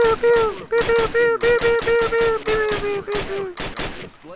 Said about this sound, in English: Approach the fence and fire, fire six more